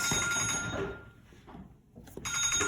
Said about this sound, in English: Oh, somebody's phone is ringing.